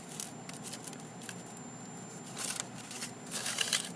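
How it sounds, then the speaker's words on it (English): Scissors cutting a paper template for a model rocket body tube, close and fairly quiet, with short crisp snips and rustling paper coming in irregular clusters, no voices. "Take your scissors and cut."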